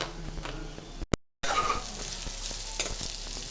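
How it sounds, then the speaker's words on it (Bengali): Bitter gourd (uchhe) slices frying in a pan give a steady close sizzle with stirring scrapes, cut by a brief dropout near the middle before the crackle resumes. "এদিকে হচ্ছে উচ্ছে ভাজা"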